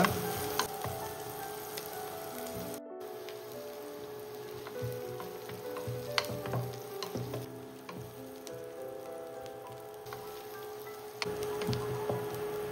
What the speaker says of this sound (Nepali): प्याजलाई ब्राउन हुने गरी भुट्नुपर्ने हुन्छ।